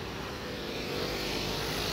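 Road traffic on a Metro Manila street outside Bonifacio Global City, a continuous loud roar of passing cars and engines close by, with no voices.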